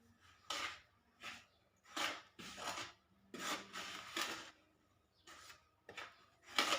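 Rava cake batter with oil being mixed in a bowl, giving a run of close, rhythmic scraping and rubbing strokes in separate bursts, with no talking.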